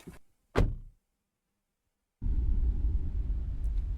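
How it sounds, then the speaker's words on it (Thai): In the video game The Apartment, a handbrake is pulled with one short, sharp mechanical clunk that fades quickly. A silent pause follows, then a steady low rumble begins and continues to the end. "เสียงดึงเบรกมือ แล้วก็เปิดประตูรถ"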